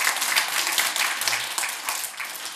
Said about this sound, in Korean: 박수 치는 거예요? 치세요.